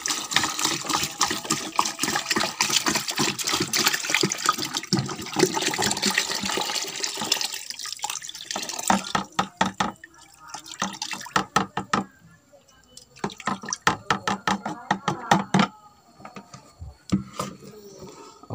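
Coconut water is poured into a compost mix, splashing and gurgling in an irregular stream with a run of dripping and sloshing bursts, close and alone.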